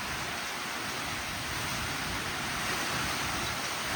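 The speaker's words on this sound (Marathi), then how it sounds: "लय मोठा पाऊस चालू आहे" Heavy cloudburst rain pours down in a steady, dense roar, broadband and unbroken throughout, close and loud with no voices, in Lotewadi village.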